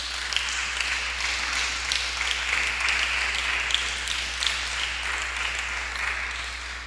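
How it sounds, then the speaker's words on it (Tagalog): A church congregation clapping together in a hall, a continuous busy wash of hands with some sharper taps poking through, fairly loud and unbroken by talk. "Sige nga daw, palakpak kasi madaming demons."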